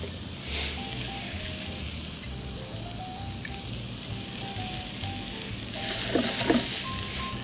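Spinach sizzles in olive oil with salt and pepper, a soft, steady crackle that grows louder and more spattery toward the end.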